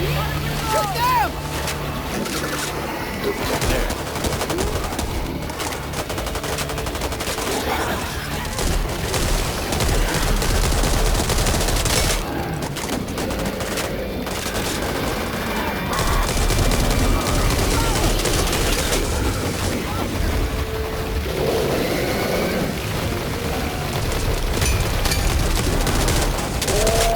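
Rapid bursts of gunfire from the co-op zombie shooter Back 4 Blood keep going under loud, busy game noise, with players shouting over the shooting throughout.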